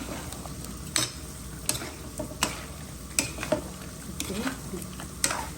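Chicken curry with potatoes frying in a pot under a low, steady sizzle, cut through by sharp scrapes and clinks of a spoon against the pot roughly every second.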